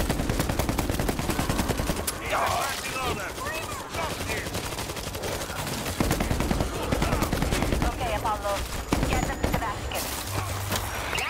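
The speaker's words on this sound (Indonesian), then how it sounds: "Dia bisa nembak, mobilnya bisa nembak." The mounted gun of an APC escort vehicle in World War Z Aftermath fires in long rapid bursts, dense continuous rattling under game ambience, with players talking over it intermittently.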